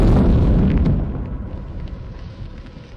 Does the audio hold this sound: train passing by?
no